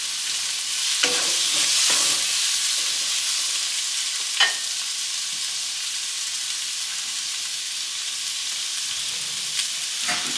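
Tomatoes cook with red onion and garlic in a pan, a soft, even hiss of frying with a few brief taps of a utensil.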